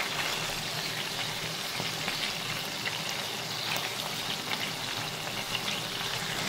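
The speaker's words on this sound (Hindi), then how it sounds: "जितनी देर में कबाब फ्राई हो रहे थे" Minced raw-meat kebabs fry in a covered pan, giving a steady, close broadband sizzle with faint crackles throughout and no talking.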